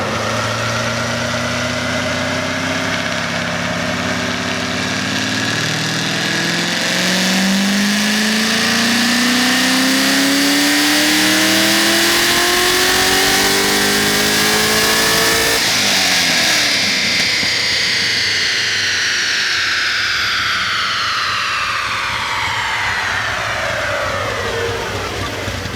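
A supercharged Chevrolet Corvette C6 Z06 with upgraded heads and cam roars through a long, loud rev on a dyno, pitch sweeping steadily upward, then dropping back with a raspy muffler tone.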